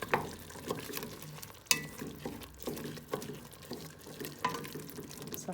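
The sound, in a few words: stirring spices into a pot of cow trotters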